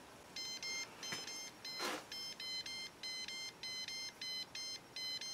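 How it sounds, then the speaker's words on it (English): A non-contact voltage tester held against a hot wire gives rapid, evenly spaced electronic beeps in a steady repeating pattern, faint and alone apart from one soft rustle. "it is actually beeping and, you know, showing the light"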